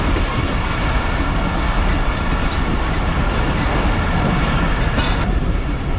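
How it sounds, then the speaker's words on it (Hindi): The Rehman Baba Express approaches Landhi Junction railway station, a loud, steady rumble of rolling wheels and rattling carriages that holds close and constant throughout. "12:52 में ट्रेन हमारी अप्रोच बना रही है लांडी जंक्शन रेलवे स्टेशन पर"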